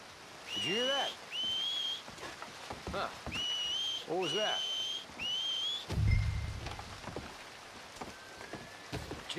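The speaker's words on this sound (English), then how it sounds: "Make a noise, whistle or something." A character whistles in the video game Red Dead Redemption 2: several sharp two-note rising whistles repeated in a rhythmic series, near and clear, over steady rain, followed by a low muffled thump and softer, more distant whistles.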